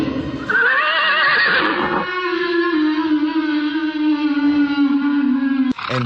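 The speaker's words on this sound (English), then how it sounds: "jumped onto his horse" A horse sound effect in a children's story reading: a loud, drawn-out neigh that rises and wavers, then settles into a long sustained whinny tone, ending with a brief sharp sound.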